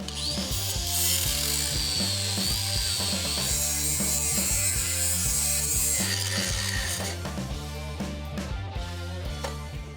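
Old motor mounts being cut off the frame of an older Ford F-150 during a big-block swap, a loud, continuous grinding cutting noise with a steady rhythmic mechanical pulse that runs the whole time and eases slightly near the end, with no talking.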